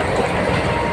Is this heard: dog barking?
no